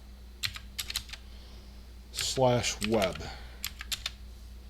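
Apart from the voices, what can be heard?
typing on a computer keyboard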